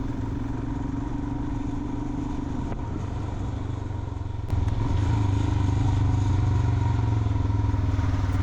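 A motorcycle rides through northern India toward Daksum in Jammu and Kashmir, its engine droning loud and steady under rushing wind, with a step up in engine note partway through.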